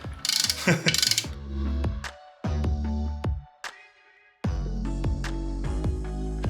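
Ratchet clicking in quick bursts while tightening clutch pressure plate bolts on a Mazda Miata NB during a turbo kit install, close and loud with short pauses between strokes.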